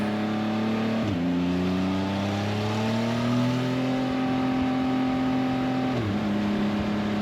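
A Can-Am Spyder RT three-wheeler revs hard and pulls away, its engine tone climbing steadily through a long gear with shifts near the start and end, loud and close, no talk.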